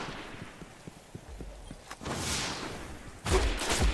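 Shotgun blasts from multiplayer combat in Destiny, on the Venus map, mix with other gunfire: faint rhythmic clicks first, then a louder burst near the middle and another sharp heavy blast toward the end.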